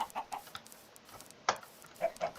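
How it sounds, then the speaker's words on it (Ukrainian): Short, soft chicken clucks from the Minecraft video game repeat in scattered bursts, light and close, with no talking over them. "Курочка, не тікай від мене."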